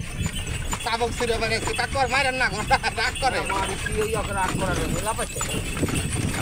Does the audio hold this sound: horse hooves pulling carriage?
yes